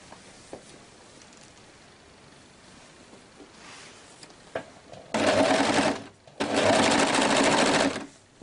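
A home sewing machine stitches fabric pieces for a girl's dress in two loud, steady runs of a few seconds each, separated by a short pause, after a quiet stretch with faint handling noises.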